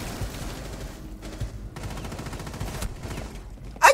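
Rapid gunfire in Rainbow Six Siege, dense bursts of automatic shots rattling in quick succession with short pauses between volleys, close and loud, ending in a sharp louder crack.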